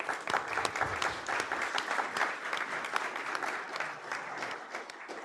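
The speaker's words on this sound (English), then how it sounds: "Please give Isis a round of applause" An audience at a school board meeting claps, a dense burst of applause that is fairly close and holds steady before thinning slightly toward the end.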